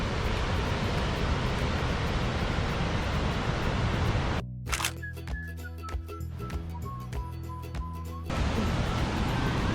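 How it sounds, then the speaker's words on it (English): Saxon Falls, a 90-foot Wisconsin waterfall, roars as a loud, steady, broadband rush, interrupted midway by several seconds of music with a whistling melody before the rushing water returns. "Look at that waterfall."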